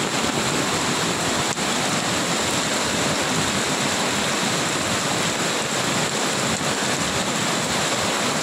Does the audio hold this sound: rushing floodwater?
yes